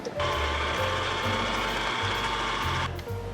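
Flour, salt and wet ingredients for Christmas treats being mixed with an electric mixer, a loud steady motor whir that runs continuously before cutting off near the end.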